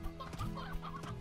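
Hens in the Slime Rancher video game cluck in a busy, overlapping stream of short, nasal calls, moderately close and steady across the moment with no speech.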